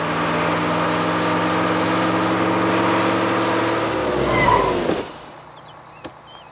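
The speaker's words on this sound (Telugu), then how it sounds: "అదే నేను ఎక్కాల్సిన బస్సు, దాన్ని ఓవర్టేక్ చేసి ఆపండి" A car engine roars steadily at close range, revving hard while overtaking a bus, then cuts off sharply as the car stops, leaving near silence with a single faint knock afterward.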